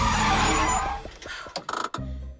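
A cartoon bus's tyres screech in a long skid as it brakes hard, followed by a few knocks and thuds as it comes to a stop.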